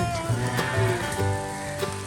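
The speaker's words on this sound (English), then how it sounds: "now it's pouring rain" Dense, steady patter of rain on a surface, continuous and fairly loud, with a low hum underneath.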